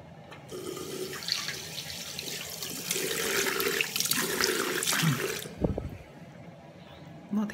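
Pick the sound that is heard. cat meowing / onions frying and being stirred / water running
water running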